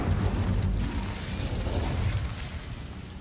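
In Hogwarts Legacy, an Incendio fire spell is cast on spiders, producing a loud, rumbling burst of flame that swells and then fades over a few seconds.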